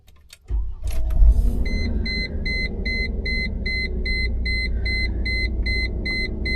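A cold Mercedes ML with an M112 engine cranks and catches, then settles into a steady idle while a repeating electronic chime beeps at an even pace above it.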